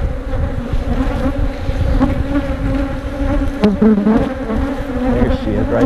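Honey bees buzz steadily and close during a hive inspection, a dense, continuous hum with shifting individual wingbeat tones and no voices.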